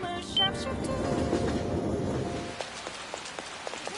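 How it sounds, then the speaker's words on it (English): Heavy rain in a video game hisses as a dense downpour at first, then thins to scattered individual drops and light spatter. "It's raining so hard."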